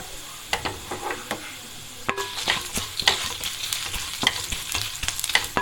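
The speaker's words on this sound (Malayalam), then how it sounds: "വറ്റൽമുളകും കൂടെ ഒന്ന് മൂത്ത് വരുന്നവരെ നമുക്കൊന്ന് ഇളക്കി കൊടുക്കാം" Dried red chillies and onions fry in a pan while being stirred, with close, busy crackling sizzle and repeated spoon-scrape strokes.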